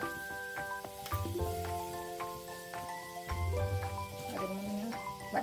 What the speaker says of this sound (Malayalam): പിന്നെ കടുക് പൊട്ടിക്കുക. കടുക് പൊട്ടി വരുമ്പോൾ 2 മണി ഉലുവ ഇട്ട് കൊടുക്കട്ടോ.